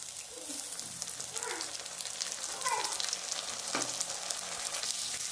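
Ground spice paste frying in oil with softened onions for a mutton curry, a steady broad sizzle with faint stirring scrapes and a few brief voice-like sounds in the background.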